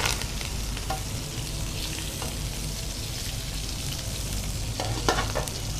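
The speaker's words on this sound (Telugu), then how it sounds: "సో కరివేపాకు వేసుకొని ఇవి అంటే బాగా ఫ్రై చేసుకోవాలా?" Curry leaves frying in hot oil for chicken pulao, a dense continuous sizzle with occasional light scrapes and clinks of stirring, close and fairly loud with no talk.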